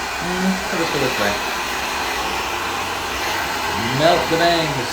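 A handheld hair dryer blows steadily and close by, curving freshly cut bangs on a layered bob in a salon, with a person's voice over the constant whooshing roar.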